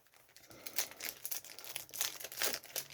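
Yu-Gi-Oh booster pack wrapper torn open by hand: a quiet, close run of crinkling, tearing foil bursts in irregular rhythm, no one talking.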